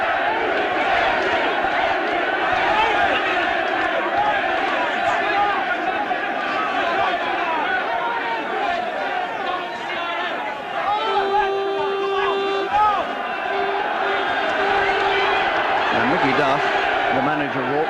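A boxing crowd at the Henry Wharton vs. Fidel Castro Smith fight roars and cheers without a break, a dense wall of shouting and chanting voices, while a commentator talks over the noise.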